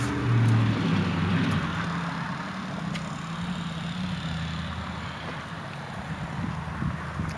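A Simplicity Landlord lawn tractor's engine runs steadily with a low rumble, close by and mixed with wind noise on the microphone.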